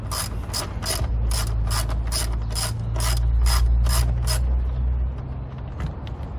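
A ratchet wrench works on 8 mm bolts at the rear of a Honda CBR250RR motorcycle during a fender eliminator kit install, giving a steady run of close, evenly spaced clicks over a constant low hum before trailing off.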